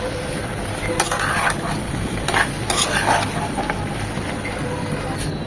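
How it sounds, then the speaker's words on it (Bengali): An egg fries in a pan seasoned with a little salt and pepper, a steady soft sizzle running throughout with a few scraping stirs and light utensil taps. "ডিমটা সামান্য একটু লবণ আর একটু গোলমরিচ দিয়ে এভাবে জুসি জুসি করে ভেজে নেবেন"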